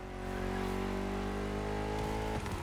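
A BMW M CS engine in the racing game The Crew Motorfest on PS5: a loud, steady, tonal engine note holds for about two seconds, then shifts abruptly as the pitch changes.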